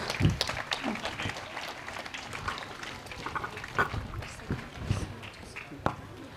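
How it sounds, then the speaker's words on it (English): A school audience at Sloka International School claps for student achievers at an awards event, a scattered burst of applause from a crowd with voices mixed in. "Let's give them round of applause."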